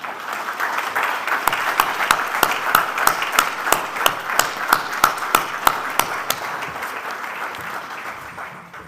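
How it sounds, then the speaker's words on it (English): Audience applause at a university engineering alumni Hall of Fame induction ceremony: a steady crowd clapping with a few sharp, loud individual claps standing out in an even rhythm near the middle, then fading toward the end. "Let's just give them a big applause."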